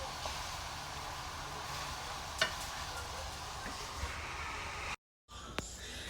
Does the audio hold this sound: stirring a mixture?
yes